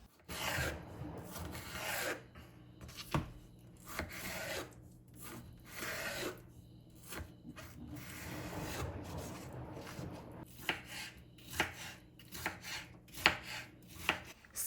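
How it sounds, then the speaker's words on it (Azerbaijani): Cucumber, tomato and lettuce are chopped with a knife on a cutting board for a salad, a quiet, irregular series of crisp cuts and scraping strokes with no talking. "Sırayla tərəvəzləri doğramağa başlayıram."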